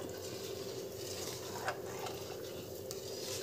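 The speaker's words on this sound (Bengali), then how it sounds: "যখন কর্নফ্লাওয়ারটা দেবেন তখন কন্টিনিউ নাড়বেন, দলা পেকে যাবে না।" A soup thickened with cornflour slurry for chicken momo being stirred continuously in a pot, a soft steady scraping and bubbling sizzle, quiet and close, with one brief clink of the utensil.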